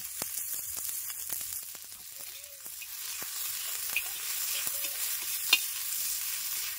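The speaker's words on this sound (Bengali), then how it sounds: "কুচনো পেঁয়াজ দিয়ে দিচ্ছি তেলে" Chopped onion, green chilli and tomato sizzle and fry in mustard oil in a village kitchen, a steady crackling hiss with scattered stirring clinks, close and moderately loud, no voices.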